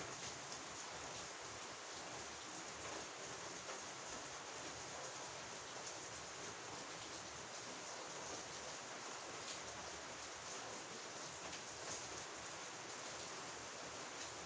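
Steady, continuous rain pours down as a dense, unbroken hiss with no other sounds.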